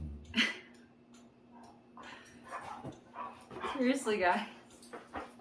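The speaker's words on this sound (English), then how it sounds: "Can you hear my puppies playing in the background?" Puppies yip and whimper playfully in the background while a person talks over them, the small barks coming in short scattered bursts.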